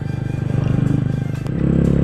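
A motorcycle climbs a steep mountain road toward Atal Tunnel near Manali, its engine throbbing in fast, even pulses close by, growing louder near the end.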